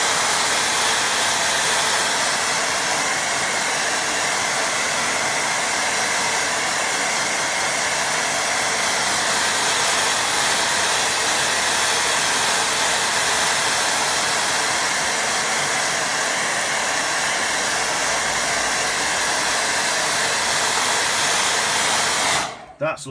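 A hair dryer blowing on a painting on cartridge paper, a loud, steady close whooshing hum running without pause until it cuts off abruptly at the very end.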